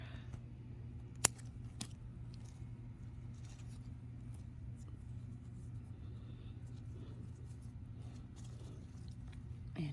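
Scissors trim leaves from a sage bush, giving a few sharp, faint snips close by over a steady low background hum.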